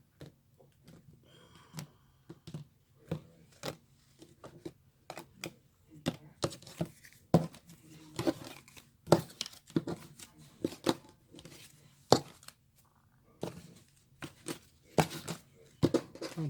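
A tarot deck is cut and handled with a run of sharp card snaps, riffles and papery flicks at close range, irregular and fairly quiet, with no talking.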